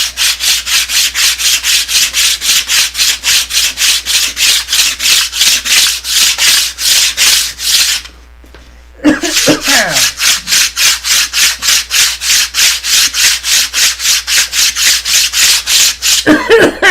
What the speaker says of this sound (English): This is 180 grit. We're bringing it down completely flat.